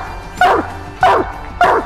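A coon hunting dog gives three loud, sharp barks spaced evenly about half a second apart, close by, with quiet outdoor background between them.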